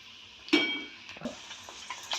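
Spoonfuls of dal dropped into hot oil for a vatana masala chivda, frying with soft sizzling and a few clinks of a utensil against the pan, close and quiet.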